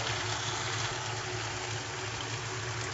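Water runs steadily from washed chicken as it drains, a continuous close rushing wash that holds unbroken for a few seconds with no voices.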